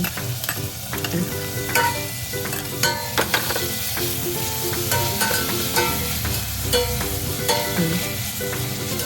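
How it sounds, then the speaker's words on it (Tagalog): Tomato, onion and celery stalks sautéing together over low heat in a pan for sinigang na baboy, a steady close sizzle with frequent scraping and clinking stirs from a utensil, no talking. "Gisa na yan sabay-sabay sa low heat hanggang para siyang matunaw."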